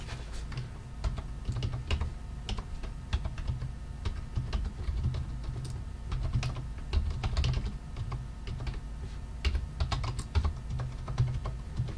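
Fingers type on a computer keyboard, entering a server name, in a quick, uneven run of close key clicks that continues throughout with no one speaking.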